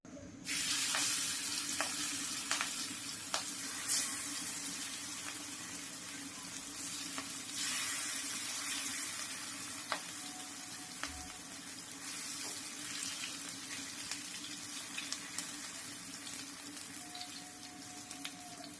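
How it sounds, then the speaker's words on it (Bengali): Bottle gourd leaves coated in ground lentil paste fry in hot oil, giving a steady, close, dense sizzle that runs unbroken throughout, with a few faint clinks and stirs on top. "ডাল বাটা দিয়ে মাখানো এই লাউ পাতাগুলো এখন গরম তেলে ভেজে নিলেই হয়ে যাবে।"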